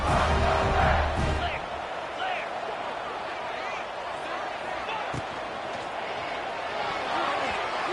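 Stadium crowd noise in a college football video game, a broad sustained roar with swelling cheers after a drive, steady and loud throughout, with a commentator's voice running over it.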